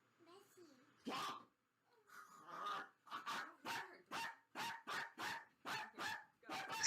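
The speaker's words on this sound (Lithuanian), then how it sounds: "Tai šuo." A dog barks in a fast, loud series of sharp barks close by, with a few growls at the start and someone talking over the noise.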